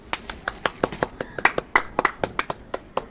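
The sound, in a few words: clapping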